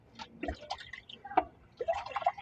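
Water pours and splashes into instant pancit canton noodles, Lucky Me brand, in a few short uneven bursts of dripping and trickling, close and fairly quiet, with no voices.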